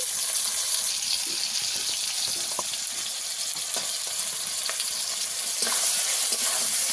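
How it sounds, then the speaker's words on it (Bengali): Spices and ingredients for a rohu fish curry with pointed gourd stir-fry together in a pan, giving a constant close sizzle with scattered scraping stirs and no talk. "সব কিছু আমি একসঙ্গে একটু ভালো করে কষিয়ে নেব"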